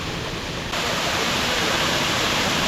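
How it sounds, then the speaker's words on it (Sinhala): Sari Ella waterfall in Sri Lanka, a steady, loud roar of cascading water with a broad hiss, rising slightly in volume after the first moment and continuing without pause. "මේ දිය ඇල්ල කඩාගෙන වැටෙන්නේ සාරියක් දාලා තියෙන වගේ"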